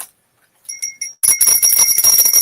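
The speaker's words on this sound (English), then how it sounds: "Do the bell." A bell rings three quick, clear dings, then a loud, dense burst of noise takes over.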